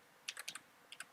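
Quiet, quick keystrokes on a computer keyboard, a short run of about six taps followed after a brief gap by two more, close and faint.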